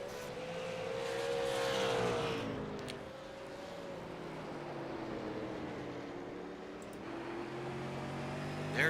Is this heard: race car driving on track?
yes